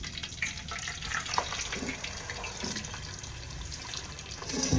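A steamed whole chicken, still wet, sizzles and crackles steadily in hot oil, a dense close hiss with scattered pops and spatters throughout.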